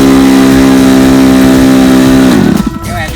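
A small RC sport model airplane engine runs at a steady high buzz at an airfield, loud and close, then cuts and sputters down near the end.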